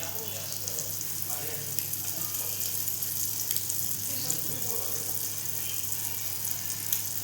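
Eggs sizzle and crackle steadily in hot oil in a pan, a bright, even frying hiss with faint clinks and background hum.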